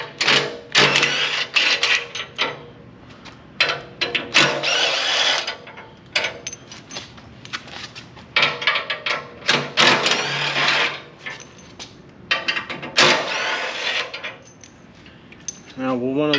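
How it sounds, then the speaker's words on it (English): Metal bolts of a 15 mm size being loosened from the frame horns of a Bronco's front bumper, giving repeated bursts of clicking ratchet and clinking hardware in bright, close clattery stretches with short pauses between. "we can go ahead and remove the bolts that hold the bumper to the frame horns"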